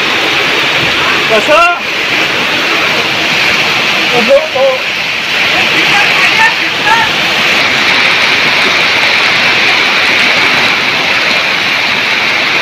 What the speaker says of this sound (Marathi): पाणी खूप चालू आहे